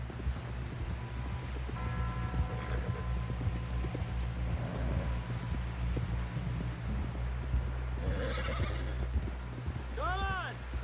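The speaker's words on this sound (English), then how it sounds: "Someone help John down off this horse." A horse in Red Dead Redemption 2 whinnies loudly near the end over a low steady hum, with soft hoof clops and shuffling throughout.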